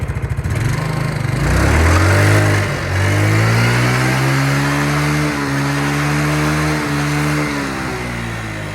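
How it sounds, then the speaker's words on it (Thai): A Yamaha Mio Z scooter engine revs up loudly and close, holding high with a few brief dips, then steadying at a strong throttle. "ฟังเสียงรอบเบิ้ลกันครับ"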